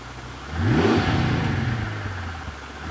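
A Mercedes CL65 AMG engine fires up after a restart, surging briefly with a rising whir before settling into a steady running rumble, close and loud with no one speaking.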